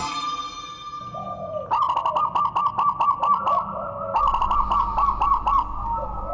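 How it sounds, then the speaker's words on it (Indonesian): A caged zebra dove or spotted dove coos in repeated rhythmic bursts, two clear sequences of bubbling, pulsing calls, fairly close, with faint background noise. "dengkungan atau suara burung yang ada di dalam sangkar tersebut ini khas sekali"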